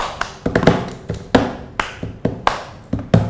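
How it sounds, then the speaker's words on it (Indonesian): Hands clap and tap in a loose irregular rhythm, about a dozen sharp close strikes, each with a short ringing decay, with no voice over them. "Kalau saya misalnya tepuk tangan gini kan, atau misalnya tepuk ke sini itu kan nggak jadi apa-apa"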